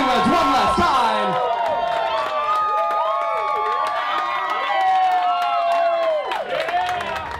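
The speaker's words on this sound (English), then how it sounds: "let's hear one more last huge round of applause for Josh and Kaylee" Wedding guests cheering, whooping and applauding the newlyweds Josh and Kayleigh, a loud continuous crowd roar with shouting voices and clapping throughout.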